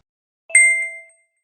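A phone message notification ding sounds once, a clear bright chime with a ringing tail that fades over about half a second, alone and close.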